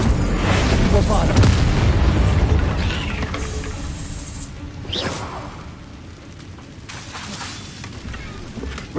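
A Bombarda explosion spell goes off in Hogwarts Legacy on PS5: a loud, booming blast with a rushing whoosh that fades into a long, rumbling tail.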